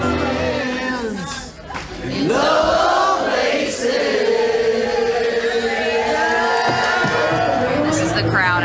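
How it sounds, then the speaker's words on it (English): A dense crowd cheers and chatters outside a dueling pianos bar aboard the Star of the Seas cruise ship, loud and close, with shouts and whoops swelling over a continuous hubbub of voices. "This is the crowd outside of Dueling Pianos."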